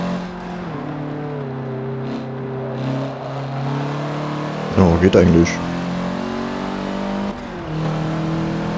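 In-game engine of a 2004 Lancer MR in cockpit view in Forza Motorsport 7 on the Nordschleife drones steadily with shifting pitch, briefly broken by a clattering burst, while someone talks over it.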